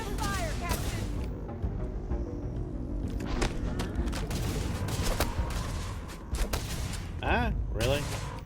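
Gunfire in the video game Starfield, repeated loud bursts and booms over a dense, constant game soundscape, with voices speaking throughout.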